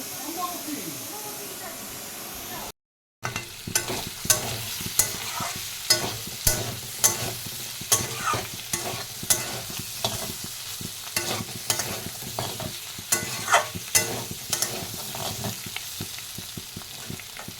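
Food frying and being stirred in a pan at home, a continuous sizzle with rhythmic scraping strokes of a spatula, close and fairly loud, with a brief cut near the start.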